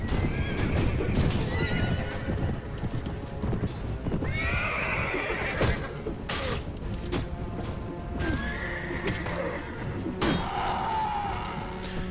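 Horses galloping in the video game Mount & Blade Warband (A Clash of Kings mod), dense rapid hoofbeats with repeated neighs and whinnies over a loud battle din of clashes and thuds.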